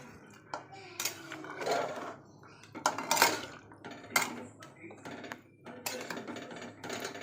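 Metal pots and utensils clink and clatter in a home kitchen as mutton goes into a pressure cooker, with irregular bursts of knocking and scraping at close range and no talk.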